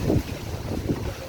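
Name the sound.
strong wind blowing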